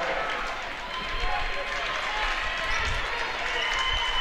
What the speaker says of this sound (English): The Greenview crowd especially trying to spur their team on to another score here.